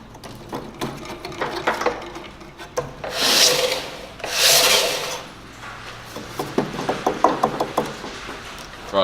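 A Ryobi belt sander runs against wood with a steady abrasive rasp and rumble, rising in two louder surges mid-clip, with rhythmic rubbing pulses throughout.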